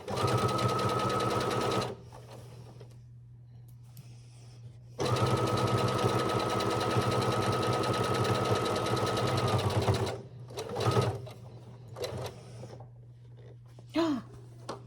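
A sewing machine stitches a summer tote bag in two steady whirring runs, a couple of seconds and then about five seconds, with quiet gaps and small handling noises between them, close and without talk.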